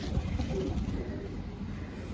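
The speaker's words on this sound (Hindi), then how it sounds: "बहुत पुराना कबूतर है हमारे घर का," An old Salara (Kalpara) breed pigeon, over fourteen years old, coos softly and steadily at close range in a home setting, a low continuous murmur with no talk over it.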